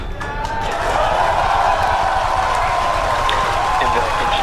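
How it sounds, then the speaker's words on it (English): A large crowd roars and cheers continuously at a SpaceX Falcon Heavy launch, loud and sustained, with a broad wash of excited voices blending into a dense rumble. "you can see and heard it by the incredible excitement within the crowd behind me"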